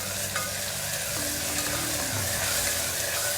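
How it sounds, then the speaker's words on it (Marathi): Ginger garlic paste sizzles steadily in hot oil with onions, a dense continuous frying hiss close to the pan, with a few faint stirring scrapes and no talk. "आता यामध्ये मी अद्रक आणि लसणाची पेस्ट घालून घेते आणि ही पेस्ट ही आपण छान परतून घेऊया तेलामध्ये"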